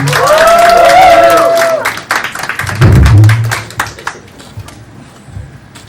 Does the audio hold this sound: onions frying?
no